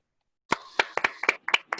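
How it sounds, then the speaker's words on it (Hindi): Applause welcoming a speaker in a Zoom meeting: about eight sharp, separate hand claps over roughly a second and a half, close and moderately loud, with no talking over them. "तो एक जोरदार तालियों के बीच स्वागत करते हैं।"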